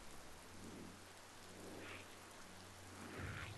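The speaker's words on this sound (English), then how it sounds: "Damn, you hate to see all this rain." Steady rain falls in the Biomutant video game, a soft continuous hiss with low rumbling swells like distant thunder, faint and even throughout with no talk.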